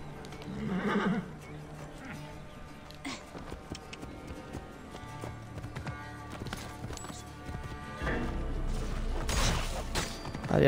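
Horse neighing and hoofbeats in the video game Assassin's Creed Origins, with a few whinnies and clip-clop steps amid game ambience and effects, ending in a louder burst of activity.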